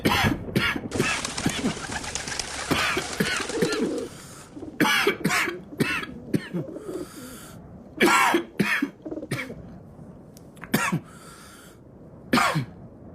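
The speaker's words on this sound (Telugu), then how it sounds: "ఏందా దగ్గు? ఏమైంది?" Harsh coughs burst out one after another, close and loud, spaced irregularly, with a stretch of muffled talking and a bird cooing faintly in the background.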